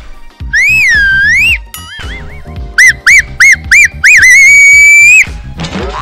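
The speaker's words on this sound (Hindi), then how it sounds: "अगर कोई लड़की जा रही है तो आप ऐसे सीटी बजाओगे." A man whistles loudly with his mouth: a long rising-and-falling wolf-whistle, then a string of short sharp bursts and a final sustained high note, close and piercing, with background sound underneath.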